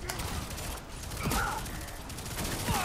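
Machine pistol fire in the video game LawBreakers, wielded by a ninja-type assassin character; dense, loud bursts of game gunfire mixed with busy battle noise, short rattling volleys recurring throughout.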